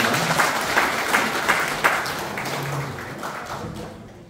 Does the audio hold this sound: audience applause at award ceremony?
yes